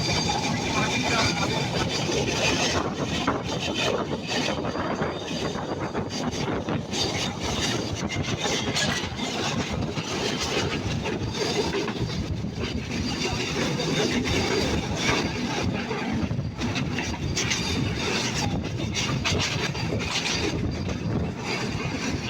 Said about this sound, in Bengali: আমাদের চিত্রা এক্সপ্রেস ছুটে চলেছে ঢাকার উদ্দেশ্যে